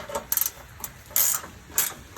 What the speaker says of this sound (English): I got a 10mm ratchet wrench right now